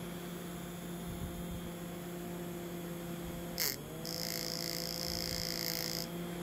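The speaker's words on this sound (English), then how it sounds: "So it's running a motor and we still have wireless power." A small electric motor runs on wireless power with a steady tonal hum. Its pitch dips briefly partway through, then a thin high whine joins in and holds for a couple of seconds.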